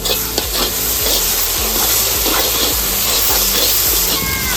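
Garlic paste hits onions fried in oil for a duck and spinach curry, producing a loud, close sizzle with regular scraping strokes of a spatula stirring the pan.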